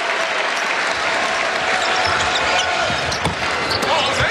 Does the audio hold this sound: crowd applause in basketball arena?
yes